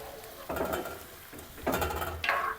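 Metal spoon scraping and clanking against a pot of tomato puree in a few short bursts, with a faint sizzle underneath; close and moderately loud.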